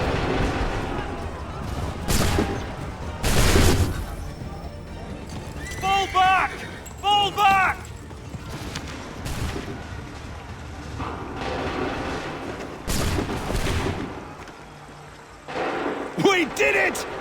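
Musket volley fire in Assassin's Creed 3, several loud, sharp booming volleys spread across the scene, with shouted commands and other voices between the shots.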